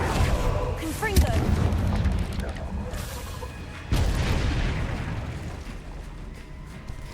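A Confringo blasting spell cast in Hogwarts Legacy, with a sharp whooshing launch followed by a booming explosive burst near the middle, then a rumbling, crackling tail amid game sounds.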